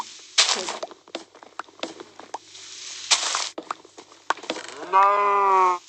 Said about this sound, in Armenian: սնկով կովը հայտնվեց